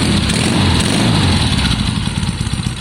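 A Triumph Bonneville T120 twin with newly fitted electronic ignition idles loudly up close, a steady throbbing rumble with slightly uneven pulses, a rich-running left bank, and no talk over it.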